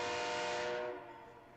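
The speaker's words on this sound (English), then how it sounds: "BNSF was just pumping out trains through East Dubuque this morning nonstop" A BNSF westbound freight train passing through East Dubuque, a loud sustained rumble and rail roar that drops off sharply partway through as the cars move on, heard alone.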